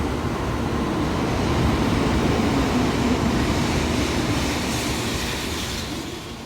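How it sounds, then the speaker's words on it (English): Riding aboard a Shinkansen bullet train in Japan: a steady rumbling cabin drone with track noise and faint clatter, continuous and fairly loud, easing slightly toward the end. "we rode the Shinkansen back"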